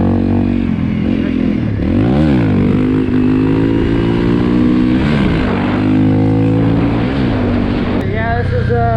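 A 2017 Honda CRF250L motorcycle with a Yoshimura exhaust revs up and down while riding, its loud engine note rising and falling through several gear changes, recorded close.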